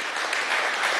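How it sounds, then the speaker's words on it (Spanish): A crowd claps steadily throughout, a dense and fairly loud patter of applause with no pauses. "Así es, un aplauso"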